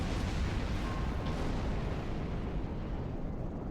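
Explosion in the space game Star Trek Online, a loud sustained roaring blast that fills the whole stretch and slowly dies away, with no talking.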